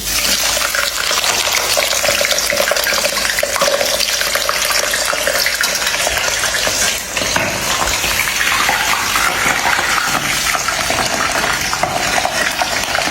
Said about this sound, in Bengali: এখন মাছটা পাও দিয়ে তুলে এখন কড়ার মধ্যে ফস করে দিয়ে